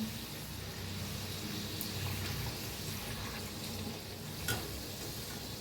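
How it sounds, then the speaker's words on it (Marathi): Semolina rava puri frying in hot oil, a steady close crackling sizzle with faint bubbling that holds evenly throughout, with one small clatter near the end. "आता दुसरं बी तळून दाखवते तुम्हाला टॅप कसं वर येर आले तेलात तळून मस्त असं"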